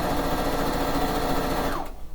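A sewing machine stitches quilt pieces together with a fast, steady mechanical whir and clatter, running loud and even before winding down and stopping near the end.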